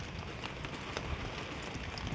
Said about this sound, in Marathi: लय जोरात पाऊस आला आहे, मगाशी पण पाऊस पडला आणि आता पण पाऊस पडतोय